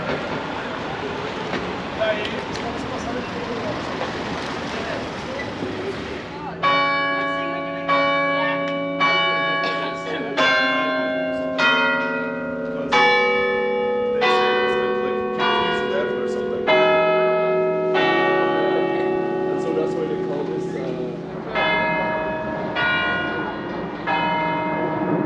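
The Shandon Bells of St. Anne's Church in Cork, Ireland peal in a lively, overlapping sequence of resonant strikes with ringing tones, preceded by a few seconds of murky background noise.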